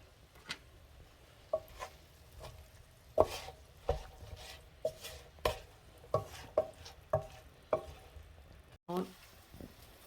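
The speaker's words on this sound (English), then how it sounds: "And stir that around for a little bit." Drunken noodles stirred and tossed in a pan, giving a series of sharp scraping and clacking hits at an uneven rhythm over a low background, with a brief voice near the end.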